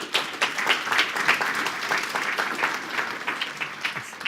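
A conference audience applauds after a talk on innovation, a moderate stretch of many hands clapping in steady, overlapping bursts at medium distance.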